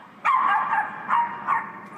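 Small dog Bitsy barks excitedly at strangers, three sharp yapping barks near and loud, the first drawn out, with short pauses between.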